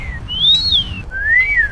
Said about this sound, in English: Every time you do that whistle thing